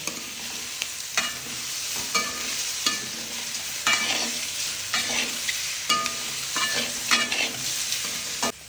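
Chopped boiled egg pieces being stirred into onions in a hot pan for an egg pepper fry, with steady sizzling broken by repeated scraping stirs, close and fairly loud, with no talking.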